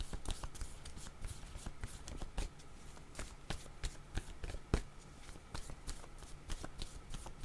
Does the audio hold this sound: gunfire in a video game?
no